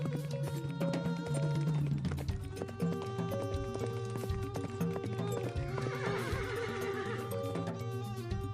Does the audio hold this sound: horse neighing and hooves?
yes